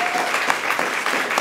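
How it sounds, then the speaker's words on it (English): Warm crowd applause for a performer at a spoken word open mic night in Rwanda, a loud, full wash of clapping hands sustained throughout with no speech over it. "Let's give another warm round of applause,"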